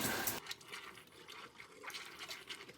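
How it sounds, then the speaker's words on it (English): Water rushes through an RV's plumbing lines as they are flushed before antifreeze goes in, a faint continuous hiss and gurgle with a louder splash at the very start. "I'm gonna make sure I flush all the water that is still left in the lines before I start to use the antifreeze"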